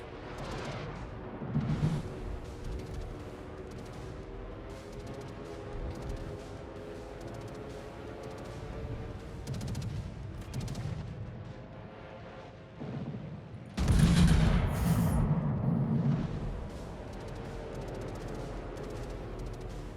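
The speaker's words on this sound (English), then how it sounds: "Always firing sap shells, isn't it?" Naval video game battle aboard the premium ship Ishizuchi, with heavy ship guns firing SAP shells: booming salvos at intervals, the loudest blast near the end, over a constant low rumble of engine and sea ambience.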